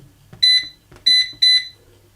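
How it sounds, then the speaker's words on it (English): An air fryer preheating to 190 °C gives three loud, shrill electronic beeps, each doubled, in an even pattern, with no one talking. "now we're going to preheat the air fryer at 190 degrees C"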